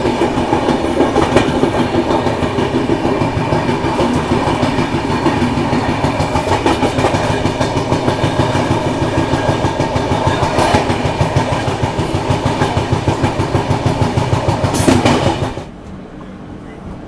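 An Indian express train runs on rails with a loud, continuous rhythmic clickety-clack and rumble from close by, ending abruptly into a quieter hum near the end.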